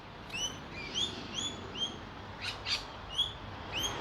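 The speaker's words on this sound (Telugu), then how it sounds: "పక్షులు అరుస్తూ ఉంటాయి" Birds chirp in a Melbourne backyard with repeated short, bright tweets and whistles every half second or so, close and clear over a soft, steady outdoor background hum.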